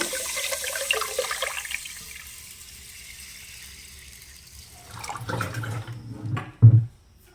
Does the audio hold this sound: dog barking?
no